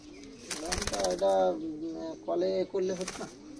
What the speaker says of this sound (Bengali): সোলেমান কাগজি এই যে কবুতরের লাইন দেখো